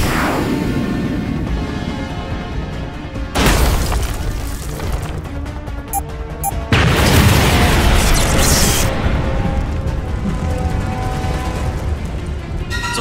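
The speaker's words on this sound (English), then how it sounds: "Get ready to drop the bomb." A bomb explosion in a Skibidi Toilet animation, loud booming bursts with a sharp onset partway through and a second crash, followed by sustained roaring rumble.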